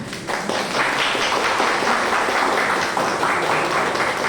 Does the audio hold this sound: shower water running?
no